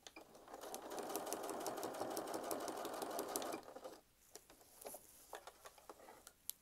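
Close, quiet sewing machine stitches a quilt block from edge to edge in one steady rapid run of about three and a half seconds, then stops, leaving light clicks and handling ticks.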